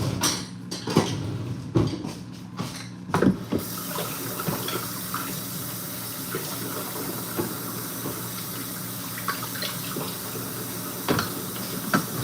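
Raw chicken is rinsed under running vinegar water with lime in a kitchen sink, a steady close stream of water broken by louder splashes and knocks as the pieces are handled.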